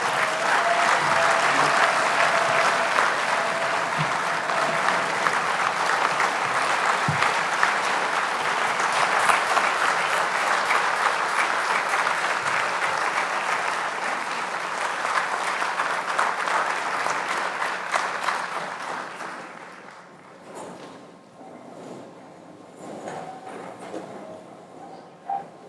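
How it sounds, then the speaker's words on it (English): A large audience at a chamber of commerce annual dinner applauds an award winner, loud sustained clapping for about twenty seconds before it tapers off to scattered claps and room noise. "please join me in giving a rousing applause for the 5th annual Robert P. Bartz Award winner for outstanding leadership, Mac Caraway."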